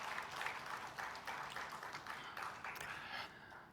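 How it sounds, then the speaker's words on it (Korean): A church congregation claps together during a Sunday service, a soft, somewhat distant patter of many hands that rises and thins in uneven waves before tapering off near the end. "다시 한번 여러분 뜨거운 박수로 축복하고"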